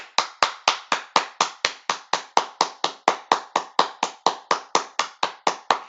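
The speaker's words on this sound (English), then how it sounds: "let me give him a round of applause" A single pair of hands clapping in a steady, even rhythm, about two dozen sharp claps close to the listener, with no talking.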